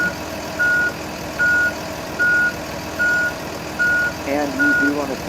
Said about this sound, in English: you want to hear your reverse alarm